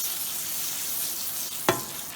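Baby spinach wilts in melted butter in a frying pan, giving a steady close sizzle with a single sharp clink of a utensil near the end.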